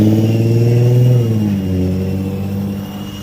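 A Sky Rover Vigilante drone flies at top speed in wind, its motors giving a loud, steady, close buzzing drone whose pitch dips and wavers as it strains against gusts.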